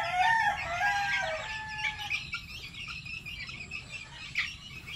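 Month-old white, black and grey Boston chickens crowing and clucking together, with several thin young crows layered over steady clucks and faint insect chirps in the background.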